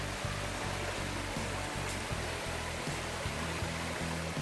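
Small stream flowing along a woodland path in Bulgaria's Krushuna waterfalls park, a steady broadband rush of water, close and continuous with no voices.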